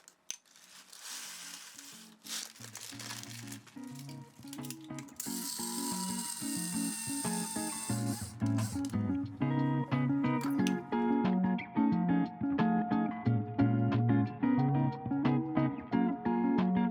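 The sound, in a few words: grinding coffee beans in a grinder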